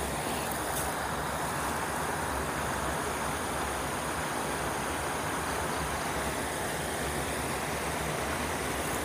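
River water flowing steadily nearby, a constant broadband rush filling the whole clip with no talk over it.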